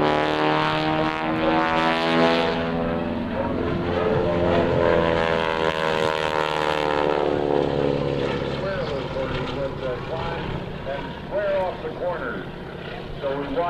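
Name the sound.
propeller aerobatic airplane flying low at an airshow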